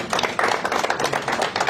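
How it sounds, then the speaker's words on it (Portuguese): A press-conference crowd applauding Diniz, with dense, steady clapping from many hands throughout a short burst and no voices over it. "Palmas para o Diniz, né?"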